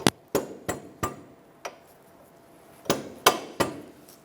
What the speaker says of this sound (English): Once you get it through, you can just tap it the rest of the way.